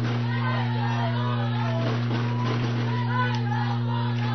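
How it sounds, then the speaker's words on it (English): Crowd noise from spectators at a California community college state championship softball game, a steady murmur of cheering and shouts heard over a muffled, hum-laden broadcast with a commentator speaking. "Crowd getting into it."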